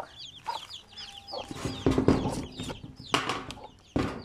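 Several chickens clucking and squawking nearby in short bursts, with scattered rustling in between and no talking.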